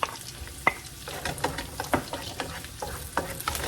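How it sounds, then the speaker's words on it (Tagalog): Garlic and onion sautéing in a pan, a continuous sizzle broken by repeated scraping and clinking of a utensil stirring, with no one talking. "Gigisa muna natin ang ating bawang, sibuyas."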